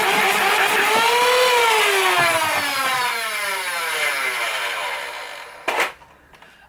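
A modified Magna LS-20 toy blaster, a Borderlands-style Stryfe build, fires with a loud whirring spin-up that winds down over several seconds, followed by a sharp click near the end.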